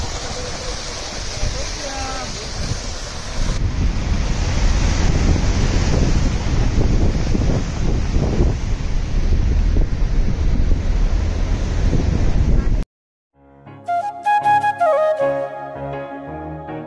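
Flowing river water on a holiday trip to Harsil: a steady, loud broadband rush mixed with wind buffeting the microphone and voices. The sound cuts off abruptly near the end and gives way to other sounds.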